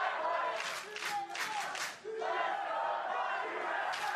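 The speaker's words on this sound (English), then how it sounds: "I like the battling chants here." A packed crowd at an esports arena during a 2017 League of Legends LCS match between TSM and FlyQuest chants in loud, rising waves, rhythmic bursts of massed voices with a brief dip midway.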